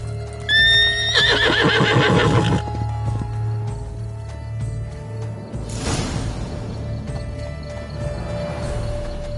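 A unicorn in the video game Witcher 3 Blood and Wine gives a loud, close, wavering neigh lasting a couple of seconds, followed by softer hoof clip-clops and rustling against steady game ambience.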